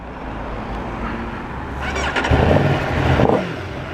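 An Aprilia Tuono V4 1100 Factory motorcycle cranks and fires up after a low steady rumble, the starter whir followed by a brief rev and settling engine, close and moderately loud.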